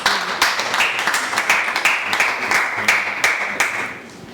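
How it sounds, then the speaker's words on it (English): An audience claps for a young girl after her turn at a children's public speaking contest, with loud clapping and distinct sharp claps rising out of it before it fades at the end. "Let's clap for her."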